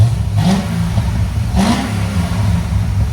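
A cammed Chevrolet Corvette Z06 7.0L V8 with headers revs twice in sharp bursts over a steady, rumbling, choppy idle, the throaty exhaust loud and close.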